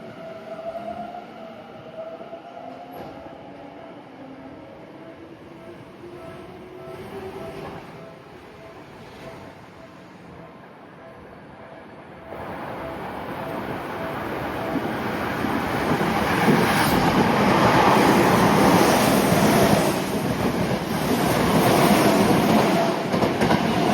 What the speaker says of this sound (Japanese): The train is passing through track 3.